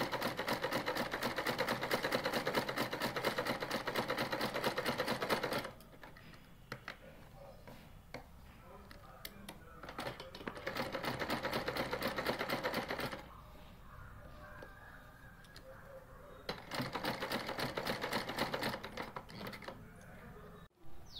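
A sewing machine stitches a fabric sleeve in three rapid, rattling bursts separated by quiet pauses, close and clear, with someone speaking between the runs.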